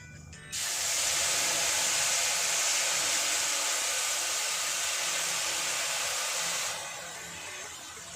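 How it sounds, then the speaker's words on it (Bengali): Ground mustard and chili paste hits hot oil in a pan with a loud, steady sizzle that starts abruptly, holds strong for about six seconds, then eases to a quieter frying hiss. "আগে থেকে আমি সর্ষে লঙ্কা বেটে রেখেছি এবার এটা আমি তেলের ওপর দিয়ে দেবো"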